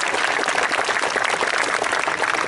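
A crowd at a falconry display at the Great Dorset Steam Fair breaks into dense, loud, continuous applause, many hands clapping together without a break.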